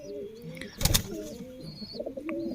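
Male pigeon cooing in soft, low repeated phrases while held in hand, with a brief flutter burst near the middle and faint chirps from other birds around it.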